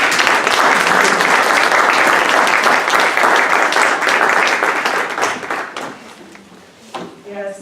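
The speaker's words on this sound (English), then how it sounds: "so let's give them a round of applause" Loud, sustained applause from an audience at a school board meeting, steady for about five seconds before thinning out into scattered claps and murmuring voices.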